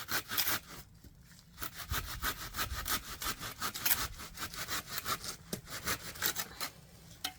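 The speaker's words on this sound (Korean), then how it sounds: "나무를 자르는 것 같네요." A hand saw cuts through kudzu root wood in steady, rhythmic back-and-forth strokes, close and fairly loud, with no voices.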